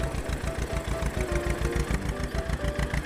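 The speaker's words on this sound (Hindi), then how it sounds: "तब वो ट्रैक्टर रैं रैं करके स्टार्ट हुआ" A tractor engine runs with a steady, rapid chugging pulse, close and fairly loud, with faint tonal whines drifting above the beat.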